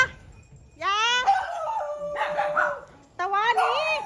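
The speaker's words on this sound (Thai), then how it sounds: "มันชอบเห่า มันสู้เขา" A small, feisty dog barks and yips in sharp, high bursts, loud and close, with people talking over it.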